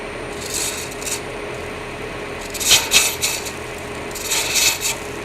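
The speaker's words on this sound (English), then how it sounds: "I'm just roughing out. I'm using a roughing gouge, and it's chipping a little bit, but that's fine." A roughing gouge on a wood lathe rough-turns a blank into a cylinder, a steady rubbing hiss with louder bursts of chipping cuts in the second half, close and without talk.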